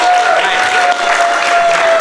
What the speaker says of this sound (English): you're going to reward him with thunderous applause